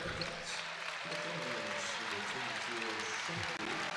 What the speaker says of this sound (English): The starters return as the bench gets a well-deserved round of applause